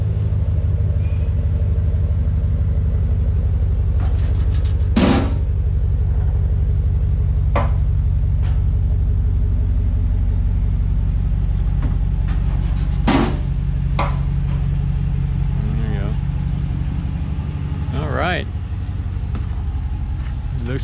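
A 2019 Ram 1500 pickup with its muffler deleted idles behind the listener, its exhaust giving a loud, deep, steady rumble that fills the whole stretch, with a few sharp knocks and brief noises scattered over it.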